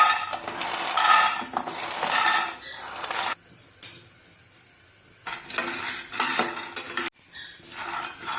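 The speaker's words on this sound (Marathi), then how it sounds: "पहिले आपण शेंगदाणे भाजून घेऊया चांगले कुरकुरीत भाजायचे" Peanuts rattle and scrape in a metal pan as they are dry-roasted and stirred in repeated bursts, with short quiet pauses between.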